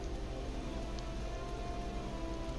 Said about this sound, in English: It's a lot of rain going on in this town.